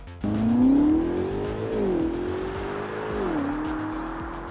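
Range Rover Sport SV engine revving hard as the most powerful Range Rover Sport accelerates, its rising note climbing, dipping briefly at each gear change and pulling again, loud and close with no talking.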